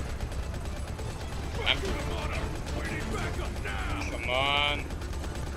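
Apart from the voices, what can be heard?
gunfire in the video game Modern Combat 5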